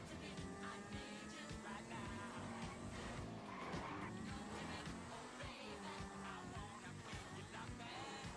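Video game car in GTA V driving with engine roar and repeated tire skids, loud and continuous throughout, with game music and effects layered underneath.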